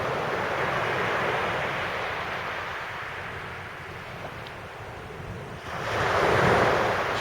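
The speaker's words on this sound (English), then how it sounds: "Waves are a bit noisy." Ocean waves on a beach during a fishing match, a steady roaring surf mixed with wind noise, swelling louder near the end, with no talking.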